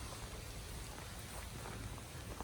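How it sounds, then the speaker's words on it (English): Rain falls on a hiking trail, a constant dense hiss of drops without pause, fairly faint and even, with no voices. "Rainy day for it"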